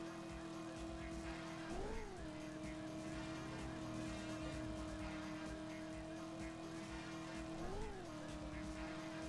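A car in the video game Driver runs with a steady engine drone, broken by two rising and falling tire skids, with constant game audio in the background.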